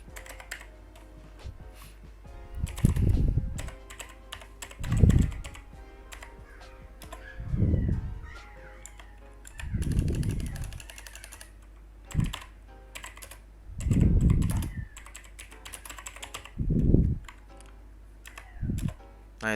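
Commands are typed on a computer keyboard during database replication setup, coming as clustered bursts of clicky keystrokes every couple of seconds with quiet gaps between, close and dry, with no voices.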